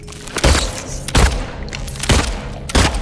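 Four loud, sharp gunshots in Silent Hill 2 Remake inside Brookhaven Hospital, spaced irregularly about a second apart, each with a heavy low thump and short ringing decay.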